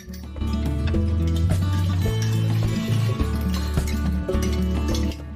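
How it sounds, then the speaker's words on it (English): A blender whirs loudly and close, churning soaked rice with water, its motor pitch shifting as the contents slosh and the blend changes, with no talking over it. "And we're going to blend everything together, the rice with the water."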